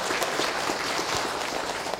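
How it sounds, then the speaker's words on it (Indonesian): An audience at an Islamic lecture attended by senior high school students breaks into dense, continuous applause. The clapping is a steady wash of sound with no voice over it. "tepuk tangan dong"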